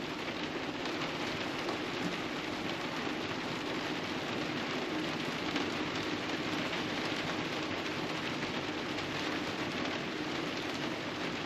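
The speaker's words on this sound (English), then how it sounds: "Just listening to the rain is so relaxing." Rain falling steadily during a road trip in northern Denmark, a constant broadband hiss of drops on surfaces, even and unbroken throughout, moderately quiet with no talking.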